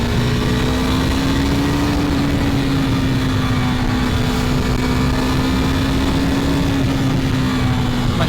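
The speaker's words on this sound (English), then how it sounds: "You guys can hear more engine noise." A 2021 KTM Duke 390 motorcycle engine held at higher revs after a downshift on a street ride, a steady, loud droning hum with wind rush over it, continuous and close throughout.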